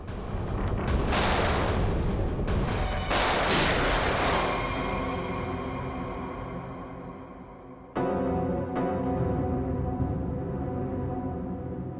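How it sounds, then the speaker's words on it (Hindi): Cover fire in a TV crime drama: dense bursts of gunfire crowd the first few seconds, then give way to a sustained, droning rumble with a few sharper hits. "विक्रांत, कवर फायर दो जल्दी।"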